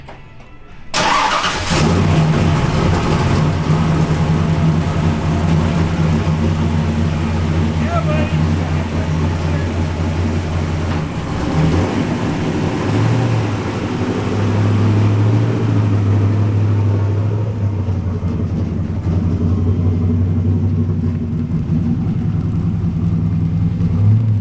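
A car engine turns over and settles into a loud, steady rumble with rising and falling revs, up close and continuous with faint talk mixed in.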